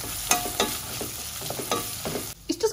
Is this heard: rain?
no